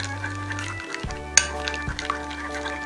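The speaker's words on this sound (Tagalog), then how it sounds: "I-mix lang po natin mabuti itong ating egg yolks at saka itong ating butter." Egg yolks and melted butter being whisked together in a bowl while making puto cheese, with a steady stirring and scraping, a few light clinks of utensil against the bowl and one sharper tap, over a low background hum.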